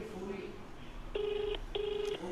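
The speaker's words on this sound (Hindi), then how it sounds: "उनको हम फोन कर रहे हैं।" Telephone tones sound as a call is placed, two clear, evenly spaced electronic beeps of moderate loudness following fainter tones, over a low background murmur.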